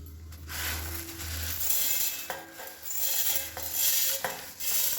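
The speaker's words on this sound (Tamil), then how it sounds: "இப்போ இது எல்லாத்தையுமே நம்ம வந்து மிக்ஸி ஜாரில் சேர்த்துக்கலாம்." Crisply roasted spices, garlic and curry leaves are tipped and scraped from a pan into a mixer jar, giving close clinks, metallic scrapes and rattles in an irregular burst.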